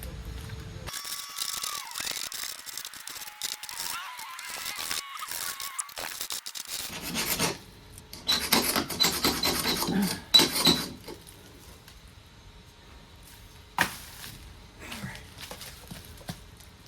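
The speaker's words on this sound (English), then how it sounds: "I'm gonna scrape with this again." Hand scraper dragged over fiberglass on an O'Day sailboat hull near a leaky removed thru-hull, giving close, rough rasping strokes in irregular bursts with pauses between.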